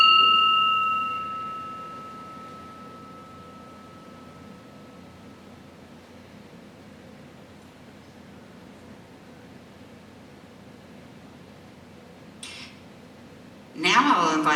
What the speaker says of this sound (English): I'm going to ring the bell for us to have just a moment of silence